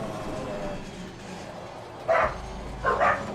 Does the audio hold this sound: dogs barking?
yes